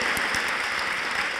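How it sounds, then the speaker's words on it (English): Lecture-hall audience applauding at a university distinguished lecture, a dense, steady wash of many hands clapping close and loud for the full stretch, with no talk over it. "you should clap for that."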